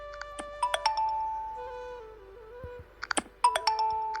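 Phone notification tones from the Zedge ringtone app: a series of short bright chiming pings and melodic beeps in separate bursts, loud and close, with quiet gaps between them.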